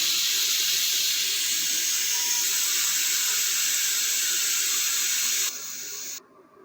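A pressure cooker cooking carrots releases a loud, steady hiss of escaping steam, which abruptly drops in level and cuts off near the end.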